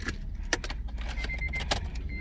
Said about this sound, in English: I gotta turn the ignition on.